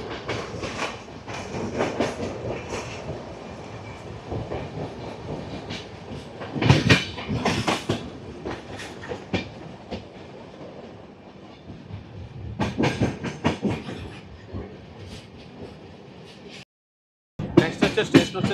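The Puri–Howrah Shatabdi Express runs at about 130 km/h on the way to Bhubaneswar, heard from inside as a steady, loud rumble with rhythmic wheel clatter and bursts of louder rattling, then a brief dropout near the end.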